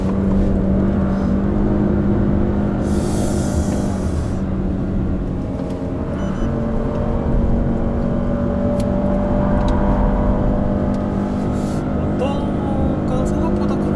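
A Chevrolet Malibu 1.35T three-cylinder engine runs at full throttle on a winding road, a sustained, droning engine note rising steadily beneath continuous in-car conversation.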